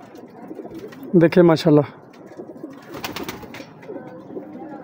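A golden breeder pigeon gives a deep, throaty coo in a short rolling burst, close by, followed by someone speaking briefly in Hindi or Urdu over soft background noise.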